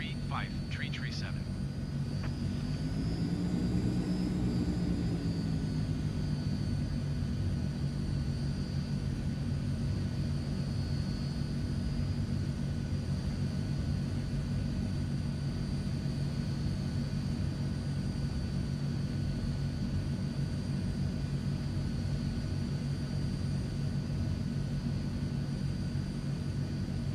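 Steady drone of a Transall C160 twin-turboprop transport's engines during a simulated takeoff in Microsoft Flight Simulator, a droning hum with a rising whine early on. Radio-style voices speak over it in places.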